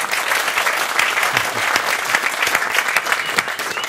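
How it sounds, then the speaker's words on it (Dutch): Loud, close applause from a sizable crowd at a municipal election debate, with steady clapping and a few sharper claps standing out throughout. "Applaus graag."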